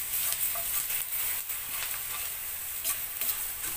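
Garlic sizzles in a hot pan for pork Chinese adobo, a steady bright crackling hiss close up with a few small stirring bumps and no talking.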